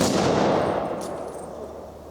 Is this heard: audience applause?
no